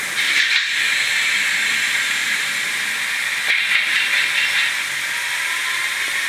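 A Fleischmann 733675 model steam locomotive with DCC sound hisses steadily, a close, continuous steam rush with two brief louder surges about three seconds apart and no voices.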